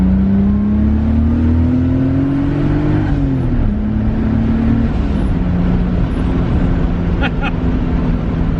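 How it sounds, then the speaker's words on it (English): An RB-swapped Datsun 280Z engine hums steadily, its pitch climbing smoothly then dipping as the driver shifts and rev-matches with throttle blips, continuous and close. "Rev matching is butter in this car too."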